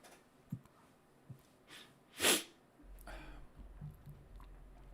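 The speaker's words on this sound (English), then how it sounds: "now I start to sneeze." A single sharp sneeze bursts out loud and close, bracketed by a few soft sniffs and breaths in an otherwise quiet room.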